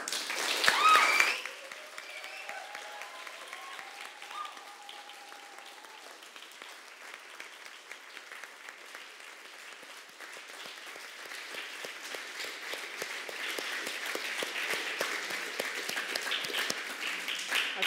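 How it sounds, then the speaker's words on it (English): An audience applauding at a community arts event, a long, steady wash of clapping from many hands that carries on throughout and slowly grows louder, with a brief voice at the start. "feel like that was a suitably long round of applause for what you just said"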